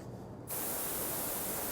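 Compressed air switching on and rushing steadily through a Graco Fusion AP air-purge spray gun, a sudden onset after half a second of quiet, then a loud, even broadband hiss held to the end.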